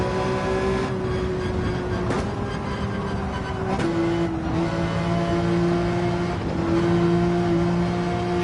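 A race car engine held at full throttle in Gran Turismo 7, a loud sustained high-pitched whine with slight pitch shifts through a section of track, no talk over it.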